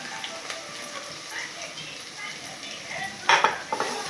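Fish curry base frying with salt in hot oil: a soft continuous sizzle with light stirring and a few metallic utensil scrapes against the pan, one sharper clatter near the end.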